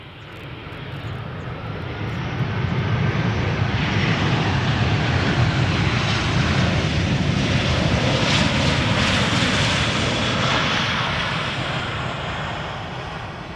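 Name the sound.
airplane engine at Amsterdam Schiphol Airport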